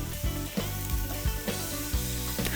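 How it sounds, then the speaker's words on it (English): Pork belly sears in a hot wok as its fat renders into oil for Filipino humba, a steady close sizzle broken by several soft spatula scrapes and stirs, with no talking. "Just continue searing until enough oil is extracted from the pork fat."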